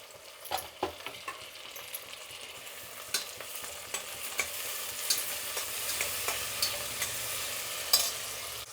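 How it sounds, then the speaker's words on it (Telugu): Tomatoes fry in a pan with green chillies, a soft, steady sizzle broken by light, scattered clicks and scrapes from stirring, fairly quiet and close. "టమాటా అనేది వేగుతూ ఉందండి."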